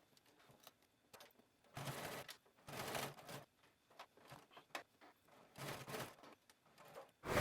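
A home sewing machine stitches around a shirt collar in stop-start bursts of rapid mechanical whirring and clatter, close and clear, with short pauses between runs.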